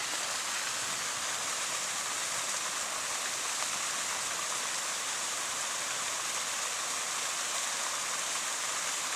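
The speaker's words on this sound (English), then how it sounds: "This little creek flows on down to the Little Miami River." Small creek flowing on toward the Little Miami River, a steady, even wash of running water that holds constant throughout, fairly close, with no voices.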